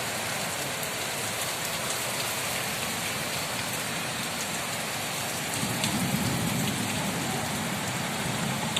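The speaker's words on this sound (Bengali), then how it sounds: "মুষলধারায় বৃষ্টি হচ্ছে এখন" Heavy downpour during a storm, a steady broadband roar of rain hitting surfaces that holds for the whole stretch and grows a little heavier near the end, with no talking.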